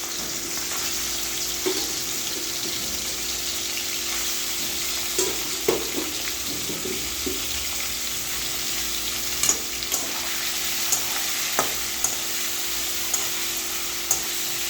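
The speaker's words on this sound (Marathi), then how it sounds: "आता आपण एका तेलातच फ्राय करून घ्यायचं आहे आपल्याला पनीर" Small pieces of paneer fry in oil in a kadhai, a steady bright sizzle running throughout with occasional soft clinks and stirring bumps from a utensil.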